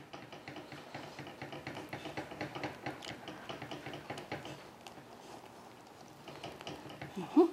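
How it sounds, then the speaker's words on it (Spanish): A balloon whisk beats hot lemon manjar cream vigorously in a bowl, giving a steady, quiet, fast patter of ticking metal strokes throughout, with no talk. "Revolviendo vigorosamente con el batidor de globo."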